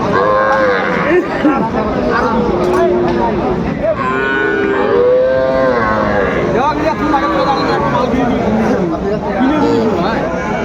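Bull calves moo repeatedly, loud and close, over a background of people chattering at a cattle market.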